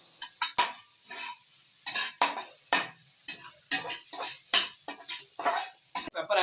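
Vegetables frying in a pan for veg kothu paratta, with a rhythmic series of sharp scraping stirs against the metal over a light sizzle, close and clear.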